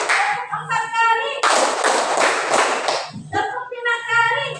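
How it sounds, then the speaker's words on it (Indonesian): A classroom group claps hands together in quick counted bursts, several sharp rhythmic claps in a row lasting about two seconds, with a voice speaking before and after. "Ya, tepuk satu kali, tepuk dua kali, tepuk tiga kali, tepuk empat kali"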